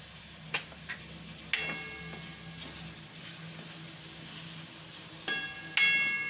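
Tomatoes cooking down in a pan with salt for a green onion and pea curry, a steady soft sizzle and stirring with a few sharp metallic clinks of a utensil against the pan, no voices.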